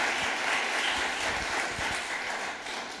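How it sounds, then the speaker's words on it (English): An audience at an anti-racism discussion applauds the two speakers: steady, close, moderately loud clapping filling all three seconds and tapering slightly at the end. "Let's give them both a round of applause."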